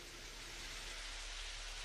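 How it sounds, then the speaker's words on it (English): Steady rain just beginning to fall on the West Coast as a bomb cyclone and atmospheric river arrive, heard as a continuous faint hiss with no distinct drops or voices. "And Lester, that rain just starting to fall here"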